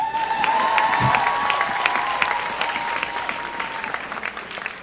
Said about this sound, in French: Acclamons le Vénézuélien.